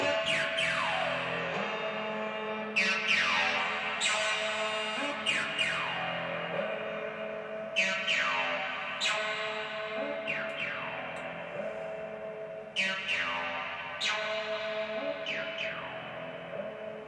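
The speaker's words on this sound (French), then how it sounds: "j'ai mis la BPM basse, très lente, beaucoup d'effets trop, reverb et auto-filter" A slowed, low-tempo music sample drenched in reverb, with auto-filter sweeps repeatedly rising and falling over sustained tones, washing through echoing, smeared textures at a loose, sluggish pace.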